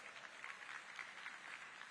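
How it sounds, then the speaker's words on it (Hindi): An audience at a village assembly claps, a faint, steady patter of many hands continuing evenly throughout, heard from a distance. "ताली बजाना तो जोर से बजाओ जरा"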